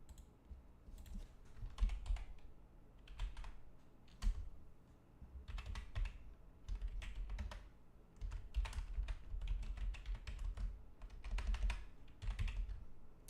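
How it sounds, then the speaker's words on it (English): Quiet, uneven bursts of keystrokes on a computer keyboard, with clustered taps and short pauses continuing throughout, close and fairly soft with no talking. "Sorry, I'm typing this out right now."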